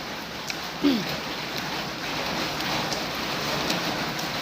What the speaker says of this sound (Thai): ฝนตกค่ำข้างหลังเปียกไปแล้ว